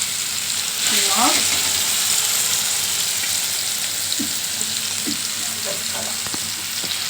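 Onion frying in a pan for a chickpea and French bean stir-fry, a loud continuous sizzle with occasional scrapes of stirring and brief voices murmuring in the background.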